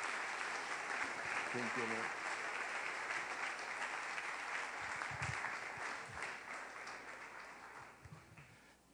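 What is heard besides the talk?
congregation applause for the King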